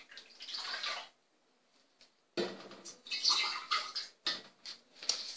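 Homemade kiwi juice being ladled and poured, splashing and trickling liquid in a few close bursts separated by short pauses.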